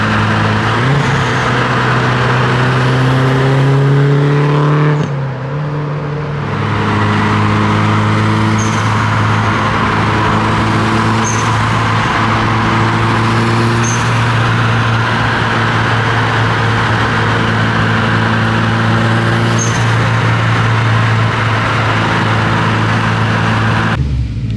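A rival to the Mitsubishi Evo, a performance car, idles with a steady engine drone and rises through several revs in pitch, close and loud with no talk.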